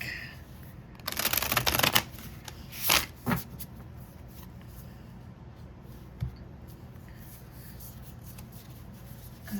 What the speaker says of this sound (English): Let's go ahead and shuffle one more time and we'll cut the deck.